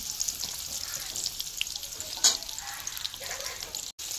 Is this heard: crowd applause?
no